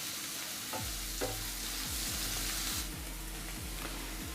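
Onions and curry leaves sizzle in a pan for a pepper prawn fry, a constant close frying hiss broken by several scraping stirs of a spoon, with no talking.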